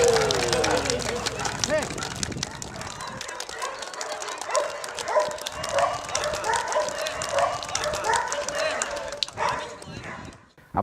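A mine detection dog barks and yips in repeated short bursts as it plays with its handler and a Kong toy after work. A voice talks over the lively barking.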